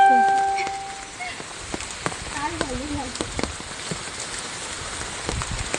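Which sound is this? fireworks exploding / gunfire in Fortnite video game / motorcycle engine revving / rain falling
rain falling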